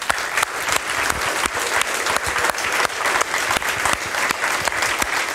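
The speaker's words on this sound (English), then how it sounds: "a huge, huge round of applause to everyone here and to all the speakers" A conference audience at a closing ceremony applauding, dense and loud clapping from a large crowd, sustained evenly throughout with no one speaking.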